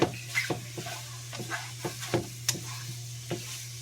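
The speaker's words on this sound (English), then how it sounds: "as you can see, the eggs are starting to cook" Eggs cook in a pan for egg bread, giving a soft sizzle under a steady low hum while a utensil taps and scrapes the pan in scattered close strokes.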